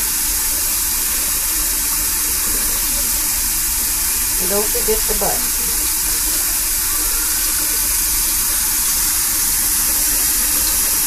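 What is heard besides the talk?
faucet water running while bathing a Persian kitten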